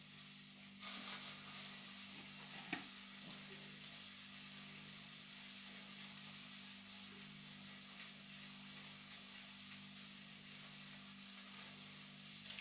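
Food for a Bauernfrühstück frying in a pan, a quiet continuous sizzle with a few small clicks and stirring sounds, no talk.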